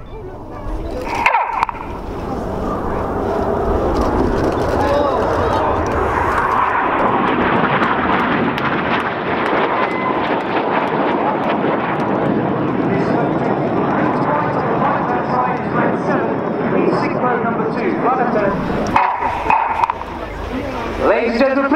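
Red Arrows BAE Hawk jets roaring overhead during an aerobatic display at an air show, a loud continuous jet rush lasting throughout, with brief thuds near the start and end.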